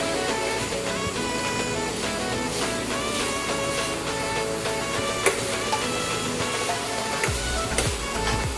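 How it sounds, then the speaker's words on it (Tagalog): Sopas soup ingredients stirred in a hot pan, giving a continuous loud sizzle with faint scraping and light clinks and a few sharper taps near the end. "So haluin na natin siya ng haluin."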